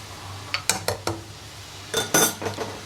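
A metal spoon clanks and scrapes against a pot as potatoes are lifted out of a simmering Ladakhi meat curry, giving a few sharp clinks followed by a longer scraping rattle, close up with no talking.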